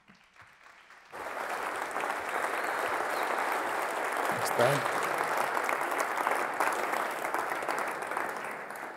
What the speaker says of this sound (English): So let's give him a round of applause as he comes on in.